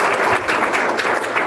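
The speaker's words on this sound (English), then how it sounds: "Round of applause." Short burst of audience applause at a career talk about getting paid your worth, a continuous dense patter of clapping over about a second and a half.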